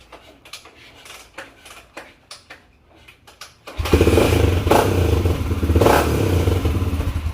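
Yamaha YZ250FX dirt bike kick-started, several short rhythmic kick strokes and clatters, then the engine catches and runs loud and close at a rough, steady idle with small blips.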